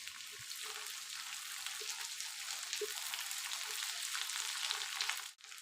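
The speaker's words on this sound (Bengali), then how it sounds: "কাঁচামরিচ বাটা দিয়ে একটু ভালোভাবে নেড়ে চেড়ে নেব।" Fried onion with green chili paste sizzles steadily in a pan, a dense close hiss with faint stir taps throughout and a brief knock at the end.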